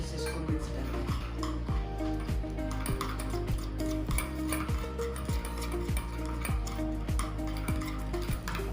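A spoon or stick stirring a homemade cough remedy mixture in a container, producing a steady rhythmic series of scraping clinks about twice a second over a constant low hum, close and moderately loud.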